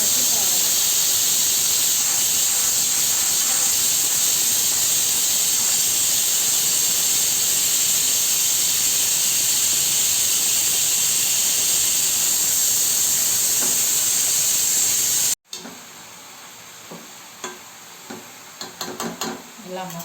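A loud steady steamy hiss of leafy greens cooking in their own steam without water fills most of the clip, then cuts off abruptly, leaving quieter clinks and light stirring sounds.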